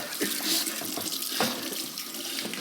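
Water runs steadily from a sink tap, a continuous close splashing rush over a burnt plastic fidget spinner held beneath it.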